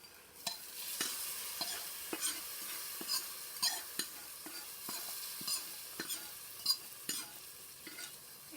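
Tempering tipped into a pot of Indian dal: a soft, steady sizzle of frying spices runs throughout, broken by regular sharp scrapes and clinks of a spoon stirring in the pot, with no talking.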